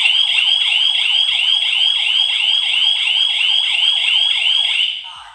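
External buzzer of a GSM WiFi security system kit, a loud shrill warbling alarm tone cycling rapidly and continuously for about five seconds before stopping abruptly, with no voices.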